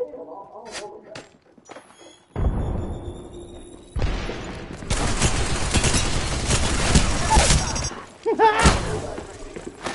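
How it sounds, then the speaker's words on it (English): A grenade goes off in a multiplayer shooter video game, a heavy broadband blast followed by several seconds of rumbling debris and crashing, with chatter and laughter from players mixed in. "Grenade out."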